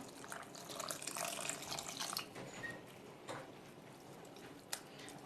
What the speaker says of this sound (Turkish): Da su ilave edeceğim.